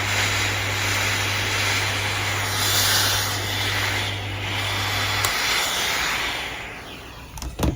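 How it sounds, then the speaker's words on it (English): Steam hisses onto a felt pillbox hat as it is shaped by hand, a steady breathy jet that swells and eases over several seconds, with a low hum cutting out partway and a few handling knocks at the end. "You can steam and re-steam as much as you need."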